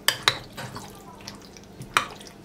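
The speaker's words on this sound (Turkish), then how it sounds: "Yeterince karıştırdım artık." A spoon stirs yogurt mixed with garlic and red pepper in a bowl, giving a few sharp, close clinks against the dish with quieter scraping between them.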